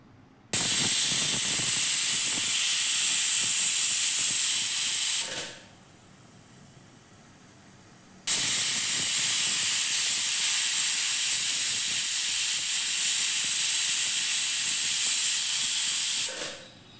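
A pressure cooker cooking rajma lets out two long, loud bursts of steam hiss, each several seconds long and separated by a short quieter gap.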